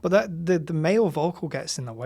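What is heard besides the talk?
No everyday noise stands out behind the speech.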